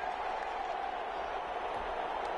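Video game crowd applause at a football game after a play, an even wash of clapping and cheering that holds for the whole moment.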